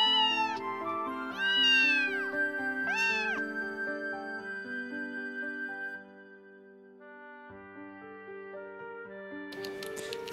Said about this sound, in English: looked up at me with a surprisingly affectionate meow